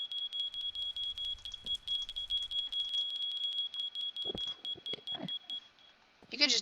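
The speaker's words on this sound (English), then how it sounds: "As you can see, my smoke alarm's going off." A smoke alarm in a Minecraft furniture mod beeps in a steady, rapid high-pitched pattern for several seconds, with brief speech-like sounds and clicks near the end.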